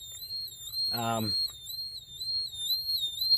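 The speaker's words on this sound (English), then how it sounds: "I'm going to try to turn the alarm off" A measuring device gives off a high-pitched electronic alarm that keeps sounding steadily and warbles slightly, while a short voice briefly cuts in near the start.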